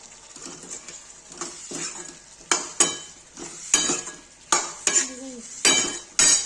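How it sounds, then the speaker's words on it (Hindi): A spoon stirring tinda curry with garam masala and fennel in a metal pan, repeated sharp scraping clinks in an irregular rhythm over a faint sizzle, close and clear. "इसको चला देंगे"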